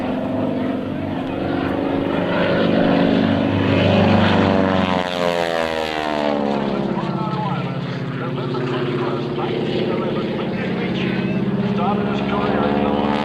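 A propeller airplane engine roars at full power through an airshow maneuver, a loud sustained drone whose pitch sweeps and shifts as the aircraft passes, with a commentator talking over it.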